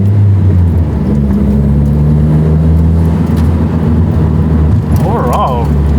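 Car riding on new HKS coilovers, a steady loud low engine drone and road rumble from inside the cabin, a voice talking over it, with a brief squeak near the end.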